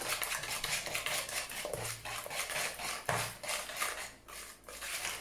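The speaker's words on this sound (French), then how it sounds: "Donc on mélange bien." A utensil mixing chocolate fondant cake batter in a bowl: repeated scraping and tapping strokes against the bowl in an uneven rhythm, close and moderately quiet, with no talk.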